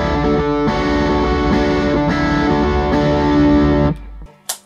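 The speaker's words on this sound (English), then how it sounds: "there's a little bit of distortion in the sort of bridge and chorus bits" An electric guitar played through a distortion effect rings out loud and sustained with thick harmonic chords for about four seconds, then cuts off sharply, leaving brief faint string noise.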